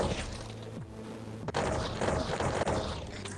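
Explosions and gunfire in the VR shooter Sweet Surrender VR, played on a Quest 2, fill the clip with dense, continuous booming and sharp cracks, and no voices are heard.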